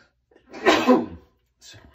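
A single sharp sneeze, close and fairly loud, followed by a brief softer sound after a short pause.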